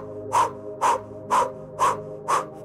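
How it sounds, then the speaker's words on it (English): Strong, forceful breaths come during a guided breathing exercise, five evenly spaced rushes of air with short gaps between them. The breathing is close and rhythmic, with no talking. "And breathing stronger."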